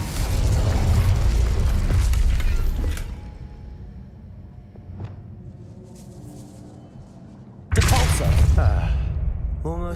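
Incendio fire spell blasts in Hogwarts Legacy, a loud booming roar that fades, then a second sharp explosive burst, close and heavy, with brief talk nearby.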